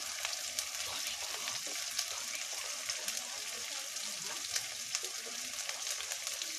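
Turmeric and cumin powder frying and being stirred in a pan for a home-style duck curry, giving a steady, close hiss of sizzling oil with faint scraping of the spoon throughout.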